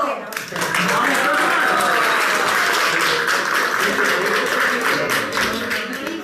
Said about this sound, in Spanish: Vamos, un aplauso.